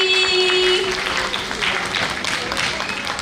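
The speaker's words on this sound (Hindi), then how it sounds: "जोरदार तालियां, कम ऑन एवरीबॉडी" A burst of crowd applause at an awards ceremony in Delhi, loud at first then tapering slightly, with a tonal hum or feedback and some voices mixed in.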